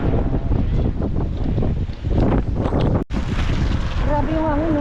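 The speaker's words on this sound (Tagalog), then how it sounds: "Grabe yung hangin, oh. Oh, lakas ng hangin, oh." Strong wind buffets the microphone outdoors on a street in Madrid, Spain, a constant loud roar and rumble as someone talks over it.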